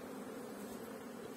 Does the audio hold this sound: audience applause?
no